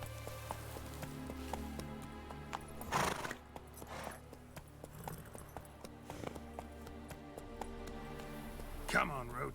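Roach the horse in The Witcher III trotting with rhythmic hoof clops, breaking into a few loud neighs and whinnies, set against faint rain and game music with someone talking at times.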